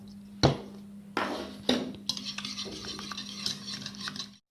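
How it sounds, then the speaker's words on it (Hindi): Eggs being whisked in a bowl for eggplant pakoras: a few sharp clinks of utensil on dish, then quick light repeated beating taps, close and fairly quiet over a low steady hum. "अंडों को फेंट लूँगी"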